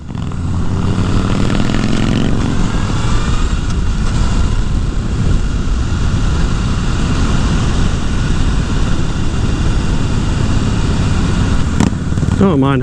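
A Honda CBR 1000 Repsol sport bike on a test ride, its engine droning loud and steady under rushing wind noise for the whole stretch, with a brief pitch shift near the end.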